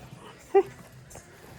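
A puppy gives one short high whimper, close and brief, amid quiet background at an outdoor gathering in Rameswaram, with faint voices around.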